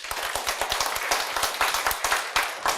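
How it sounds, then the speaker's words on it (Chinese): An audience at a lecture claps together, a dense run of sharp hand claps that continues steadily for a few seconds with no one speaking over it. "鼓掌一下"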